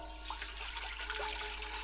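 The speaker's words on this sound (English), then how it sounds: "Now we're going to pour into a big pot because we're going to boil this." Homemade sikhye, the Korean sweet rice drink, is poured into a big pot as a steady, broad liquid rush with faint splashing, fairly quiet and unbroken throughout.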